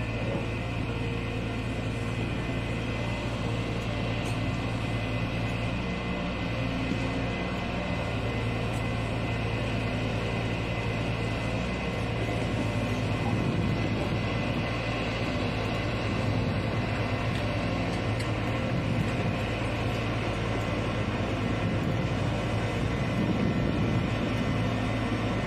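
An MTT track maintenance machine on the Bogor–Sukabumi railway works steadily as a continuous heavy mechanical drone and rumble at moderate distance, without talk.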